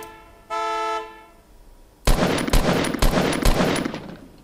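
A car horn in Fortnite blares once in a steady half-second tone after the car is shot, then loud bursts of gunfire follow in quick rapid volleys, with no talking.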